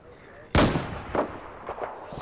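A tank cannon fires in the War Thunder video game: one sudden, loud blast with a rolling, decaying boom, followed by a couple of softer thumps.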